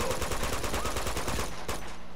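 Rapid, continuous automatic gunfire in an Uncharted 2 firefight with a shotgun and an assault rifle, loud and steady throughout with no talking.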